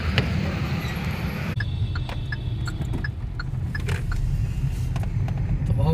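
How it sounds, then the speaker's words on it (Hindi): A car engine runs steadily with low rumbling road noise, with occasional small creaks and clicks from the vehicle. "चला के देखते हैं गाड़ी को।"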